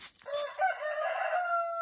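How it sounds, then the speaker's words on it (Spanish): A rooster crows nearby in a long, ringing cock-a-doodle-doo that holds steady and clear with no talking over it. "El gallo le está diciendo adiós, parece, también."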